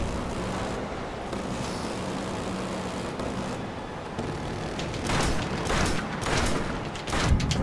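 Grenade explosions in the Killzone Shadow Fall multiplayer King of the Hill match at The Hangar, heard as a dense, continuous roar of battle noise that swells into heavier, booming bursts toward the end.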